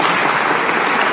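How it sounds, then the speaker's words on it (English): A steady, dense round of applause from a seminar audience, continuous clapping throughout with no gaps. "a round of applause for you sticking it out"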